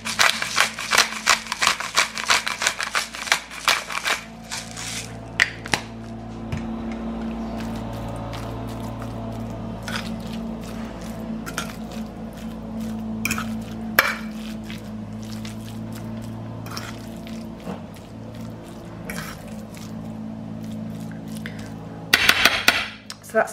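Spoon scraping and clinking against a bowl while cottage pie filling is stirred together with pepper, a run of close clatters at the start and end over a steady low hum in a home kitchen.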